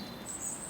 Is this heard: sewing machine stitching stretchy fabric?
no